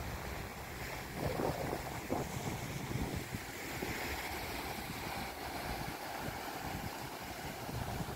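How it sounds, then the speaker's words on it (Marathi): Sea waves wash steadily along the Kundapur coast beside a highway, with gusting wind buffeting the microphone in a constant, moderately loud roar. "इकडे हा समुद्र"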